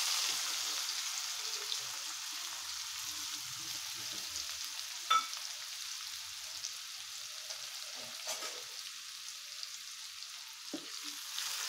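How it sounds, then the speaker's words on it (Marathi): Chopped onion fries over low heat in a pan with a bay leaf and cumin seeds, a steady soft sizzle running throughout with a couple of brief sharper clicks. "तर कांदा चांगला गोल्डन ब्राऊन होईपर्यंत भाजून घ्यायचा आहे व्यवस्थित, कमी गॅसवरच"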